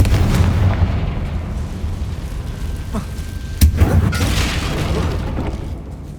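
In the Hogwarts Legacy video game, the Confringo spell fires off booming explosions with sharp blasts and rumbling impacts, loud and close amid game effects.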